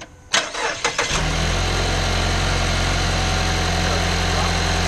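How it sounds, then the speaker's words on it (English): A car engine cranks in a few quick, uneven bursts, then catches and settles into a loud, steady idle close by, during a battery voltage test. "I'm gonna start the car, and while the car is cranking"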